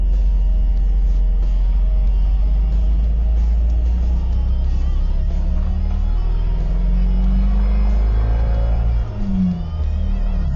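A GAZ-31022 Volga Komandor car drives and turns around at a small roundabout, heard from inside as a steady loud low engine rumble with a shifting tone near the end.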